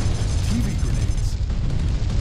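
Grenade blasts in the PS2 game Fugitive Hunter: War on Terror make a dense, steady low rumble of explosions that rolls on for the whole stretch, loud and heavy, with no clear separate bangs and no speech.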